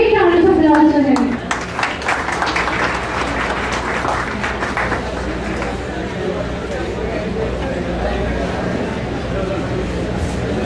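An audience at a national conference breaks into loud applause, dense clapping that peaks early and then holds steady, with a voice and crowd murmur over the start.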